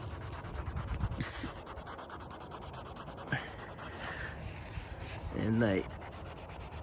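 Mortar marks being scrubbed off a surface during a home renovation: a steady, close rubbing scrub runs throughout, with a brief voice near the start and a louder burst of scrubbing toward the end.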